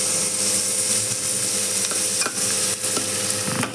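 Three medium onions frying with curry leaves and turmeric in a pan, a loud continuous sizzle under repeated scraping and clattering stirs of a spoon against the pan, with no voices.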